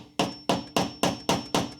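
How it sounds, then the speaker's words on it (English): A hammer lightly taps a bolt head held in a lower battery tray while a LiBCM FoMoCo kit is fitted: six crisp metallic taps, evenly spaced, close and alone. "we're going to take a hammer and just very lightly"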